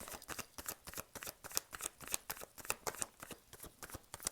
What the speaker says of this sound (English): Let me shuffle or get cards. I'm just shuffling.